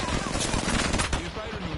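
Rapid automatic gunfire bursts in the Apex Legends video game, loud and dense, with a player's voice talking over the shooting.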